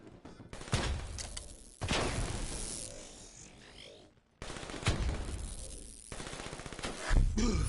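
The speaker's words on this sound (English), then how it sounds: "taking heavy fire!" Rapid bursts of automatic gunfire in the Call of Duty: Black Ops 3 campaign, loud and dense with sharp cracks, pausing briefly once before a second heavy volley, voices faintly mixed in.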